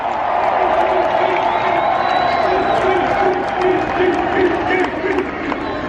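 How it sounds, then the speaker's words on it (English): A large stadium crowd at the 2024 Citrus Bowl football game, Iowa vs Tennessee, applauds and cheers steadily throughout, a dense wash of clapping with an announcer's voice partly heard over it. "give a huge round of applause for a shutout victory"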